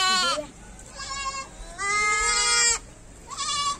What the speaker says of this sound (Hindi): ये एक हमारे हैदराबाद की जो लोकल ब्रीड है, देसी बकरियों की जो ब्रीड है, ये जो ब्रीड के बच्चे हैं